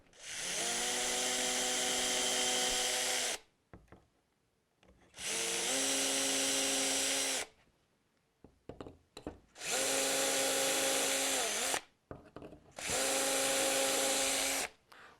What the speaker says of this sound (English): So now we're going to just drill 4 holes.